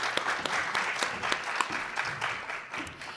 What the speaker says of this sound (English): We can give them all a round of applause.